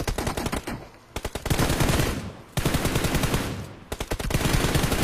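Automatic gunfire from a shooter video game comes in rapid, loud bursts of shots, broken by a couple of brief pauses between volleys.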